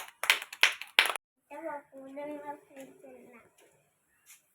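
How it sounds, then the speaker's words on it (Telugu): Three loud, sharp claps in quick succession from children at an anganwadi preschool, followed by someone talking at length. "క్లాప్స్ కొట్టండి అందరూ సుసన్నకి"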